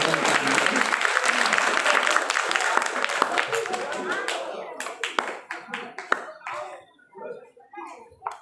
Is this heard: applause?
yes